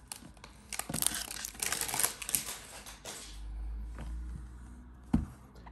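Someone rips open the cellophane and cardboard packaging of a Dolce & Gabbana perfume box. Close, crinkly tearing and crumpling comes in bursts, then settles into quieter rustling and handling with a sharp snap near the end.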